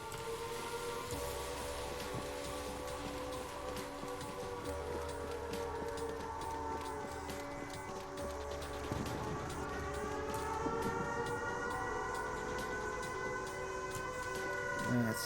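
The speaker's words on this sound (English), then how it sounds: "That's the sound of the sirens." Sirens wailing in the video game Fallout 76, a sustained rising and falling tone held over a low rumbling drone, loud and continuous with the pitch sweeping upward toward the end.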